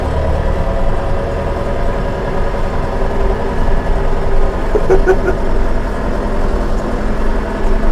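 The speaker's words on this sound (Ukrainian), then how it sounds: "тягнути машину трактором" A DTZ 504 KKU tractor engine runs steadily while towing a car, a loud continuous low diesel drone with a brief metallic rattle near the middle.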